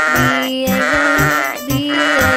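A voice sings loud, rhythmic sheep-like bleats in a repeated bouncy pattern over children's song music, imitating sheep in a meadow rather than real animals.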